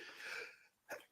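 A single sneeze bursts out near the end of a moment of conversation, short and sharp after a softer, breathy stretch, close to the microphone.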